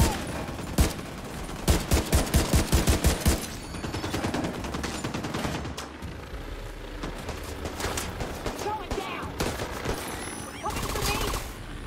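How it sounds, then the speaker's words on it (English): Rapid automatic gunfire rattles in The Division 2, a loud run of evenly spaced shots early on, then continuing dense firing and action sounds as a voice talks over it. "There is somebody there shooting me."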